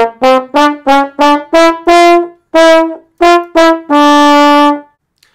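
A trombone blasts a run of short, separate notes at one steady, loud volume, ending on a longer held tone.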